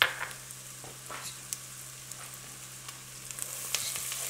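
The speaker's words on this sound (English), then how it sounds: "let's go ahead and add the garlic now so we can get that sauteed" Garlic and onions sauté in a pan, a soft steady sizzle with occasional light clicks and stirring taps, quiet and close with no talking.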